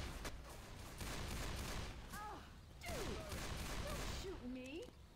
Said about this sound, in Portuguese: Quem tá atirando em mim, caramba?